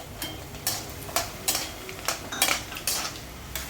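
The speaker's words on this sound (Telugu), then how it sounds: "ఇప్పుడు శనగగుండ్లు వేసుకోవాలి." Roasted gram tipped into a pan of golden tempering seeds, giving a run of sharp metallic clatters and scrapes at irregular intervals, close and fairly crisp.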